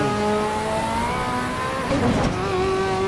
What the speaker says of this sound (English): Car sounds amazing, man. Those high RPMs.